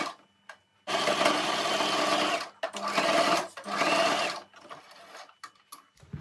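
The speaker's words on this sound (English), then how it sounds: "Take your fabric to your sewing machine and stitch it down from here to here after folding it in half." A sewing machine stitches folded T-shirt fabric in three loud, close bursts of rapid whirring, separated by short pauses and followed by quieter handling noises.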